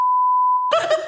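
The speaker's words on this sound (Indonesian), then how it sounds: "Nama kosnya nanti di bip ya." A single loud, steady censor bleep tone covering a spoken name, lasting well over half a second before a voice resumes talking.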